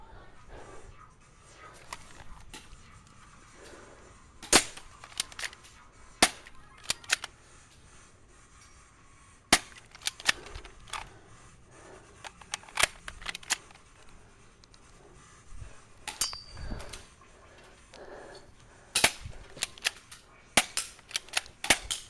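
BB pistols fire in a tabletop pistol war game, sharp snapping shots in irregular bursts, some close and loud, others lighter, with brief clicks and clatter between them.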